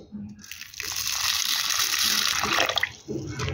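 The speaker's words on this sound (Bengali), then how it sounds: "এবার আমরা ডালটাকে ধুয়ে নেব।" Black gram dal is washed by hand in water, giving a steady close rush and splashing of water for a few seconds, with a brief dip near the end.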